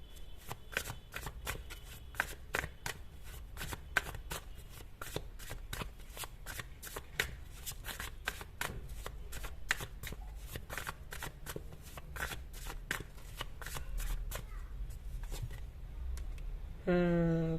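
A tarot deck is shuffled up close in a rapid, even run of crisp card riffles lasting most of the stretch, quiet overall, with a short tonal sound at the very end.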